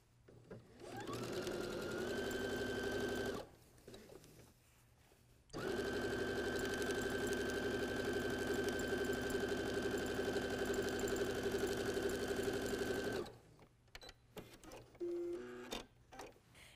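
Sewing machine stitching a quilt strip set end to end into a tube, two long steady runs of rapid even stitching with a short pause between, fairly close, with a few faint clicks after it stops.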